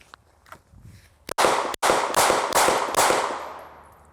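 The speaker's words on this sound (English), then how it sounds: "We will shoot as long as we have those two green lights." Gunshots ring out during a self-defense shooting drill: a rapid string of about five or six loud, reverberant shots, preceded by softer handling noises.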